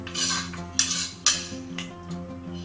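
A metal spoon stirs salt into pudina pulao in a pressure cooker, scraping and clinking against the pot in a few loud, close strokes.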